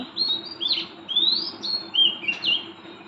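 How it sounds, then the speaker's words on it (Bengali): An oriental magpie-robin sings from somewhere in the trees at night, with bright, clear whistled phrases and chirps repeated in short bursts over a faint low background hum. "কোথায় যেন বৈশা দোয়েল পাখি গান গাচ্ছে"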